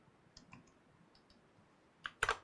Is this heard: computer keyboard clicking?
yes